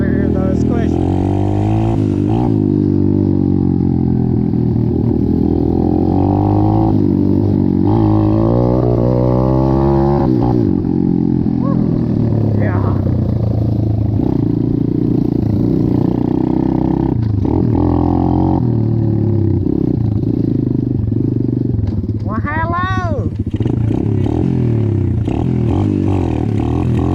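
An Apollo 125 dirt bike engine runs loud and steady, rising and falling as the rider revs and rides close by, while people talk over it.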